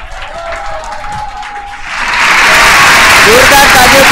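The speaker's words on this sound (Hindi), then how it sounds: "जोरदार तालियों के साथ स्वागत करेंगे श्री मनीष जैन और श्री संतोष जैन का" A hall audience at a Jain religious quiz show during Dashlakshan breaks into loud, sustained applause to welcome two contestants. A voice is heard just before the clapping surges to a dense, roaring wash.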